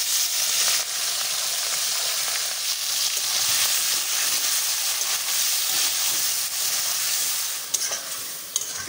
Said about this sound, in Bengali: তেলটা একটু গরম হয়ে আসলে আমি এর মধ্যে একে একে চিংড়ি মাছগুলো ভেজে নেব।